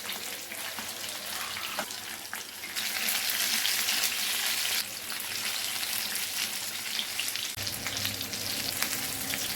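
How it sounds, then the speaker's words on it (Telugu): Chinese gorakala fish frying in a little oil, a close, steady crackling sizzle that swells louder midway and keeps hissing without any talk. "చేపలు ఒకవైపు ఫ్రై అయిన తర్వాత మెల్లిగా తిప్పుకుని రెండో వైపు కూడా ఫ్రై చేసుకోవాలి."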